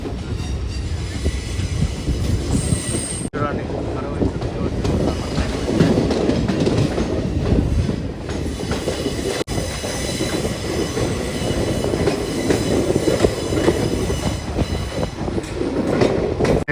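A train on the Tirupati–Puducherry route rolls past on the rails, a loud sustained rumble with rhythmic clacking and occasional wheel squeal, heard up close with no voices.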